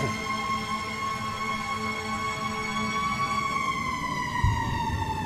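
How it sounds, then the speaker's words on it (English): A fire truck siren wails steadily with a slowly falling pitch as it passes, loud and continuous, with low traffic rumble underneath. "I'll wait till the siren goes by."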